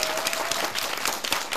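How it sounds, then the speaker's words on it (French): A studio audience at a children's television show claps energetically for the kids, a brief burst of dense, steady applause close by. "On applaudit très très fort les enfants, on applaudit très très fort."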